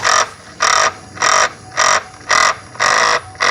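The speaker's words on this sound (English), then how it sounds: "every time I turn the key off, it's making like a grinding noise" A Saturn's throttle body makes a grinding noise after the key is turned off. It comes as a steady run of harsh, even bursts, about two per second, close and loud with no talking.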